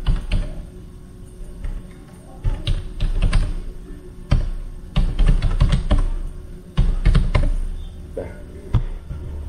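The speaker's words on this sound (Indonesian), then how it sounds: "Kita ketikkan ipconfig" Someone types a command on a computer keyboard, a near, uneven run of key taps in quick bursts with short pauses between them, with no talk.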